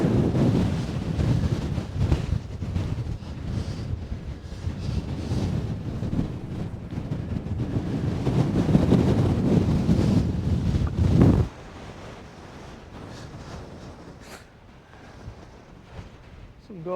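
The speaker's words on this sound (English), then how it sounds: "That wind would just die doing a few knots, we'd be fine." Strong wind buffets the microphone on a rocky summit in the Fisherfield hills of the Scottish Highlands, roaring loudly and steadily before suddenly dropping to a quieter, gusty rush.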